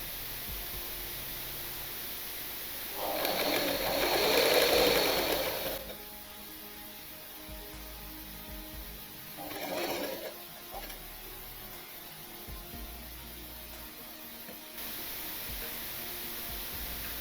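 A sewing machine stitches a dart cut blouse in two short bursts, a longer run of a couple of seconds followed by a brief second run, with quiet pauses around them.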